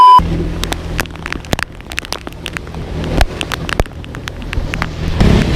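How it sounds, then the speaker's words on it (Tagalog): Rain patters steadily with scattered loud drops striking a nearby surface, under a low constant hum, growing heavier toward the end. "Biglang lakas yung ulan."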